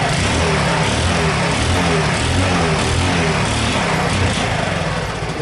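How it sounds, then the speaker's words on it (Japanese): A Honda Super Cub motorcycle engine with an exhaust leak at the muffler runs steadily up close, a loud, continuous buzzing putter with no talking. "ちょっとエンジン回してみます。"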